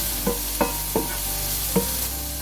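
Mixed vegetables with sweet corn stir-frying in a pan: a steady, loud sizzle runs throughout, broken by four or five clinking strokes of the stirring utensil.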